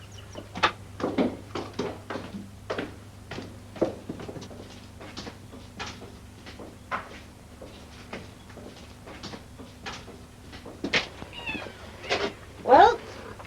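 A cat meows several times, with a loud drawn-out cry near the end, mixed in among people talking over a low steady hum.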